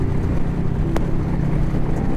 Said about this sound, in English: the performance sound of this bike, especially with that Vance & Hines exhaust I got on it, it sounds good